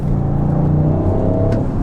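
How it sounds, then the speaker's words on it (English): The engine of a 2021 Audi RS7 under acceleration: a deep, continuous rumble heard from inside the car, with a faint tonal turbo whine running through it. "I'm hearing a little bit of turbo whine"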